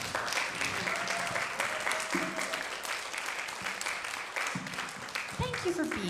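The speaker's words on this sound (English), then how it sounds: "Keep that applause going for the noble savage." Audience applause after a spoken word performance at a live showcase, a steady dense wash of clapping filling the room for several seconds, with a voice speaking over it.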